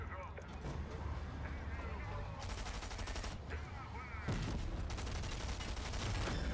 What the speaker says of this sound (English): Tank battle.